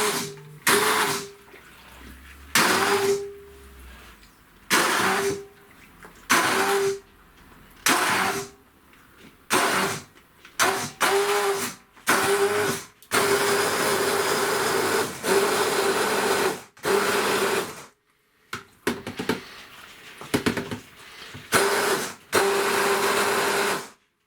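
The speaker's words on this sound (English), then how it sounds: "now I'm going to blend it with this hand blender" A hand blender purees broccoli and carrot soup in short repeated bursts, each whirring buzz starting and stopping with brief pauses between, followed by a longer stretch of steady blending.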